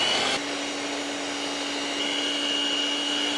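Electric hand mixer beating large eggs into birthday cake batter, a steady continuous motor whine with a sharp shift in tone just after the start, running close and loud throughout with no talking.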